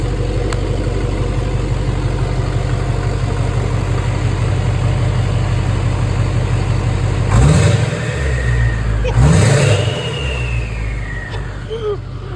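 A car engine with no exhaust, running straight out the downpipe, idles with a raw, rumbling drone, then is revved sharply twice in quick succession before settling back to idle.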